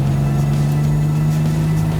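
A Lancia Aurelia with a V6 engine cruising on Oregon back roads gives a steady, close engine drone with a low, even hum and no break in the sound.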